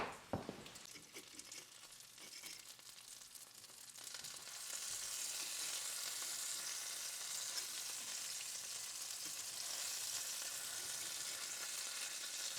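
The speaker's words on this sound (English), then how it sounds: "while we've been frying this bacon" Bacon frying in a pan gives a steady, close sizzle that swells louder after a few seconds and then holds a dense, continuous crackle with no talking.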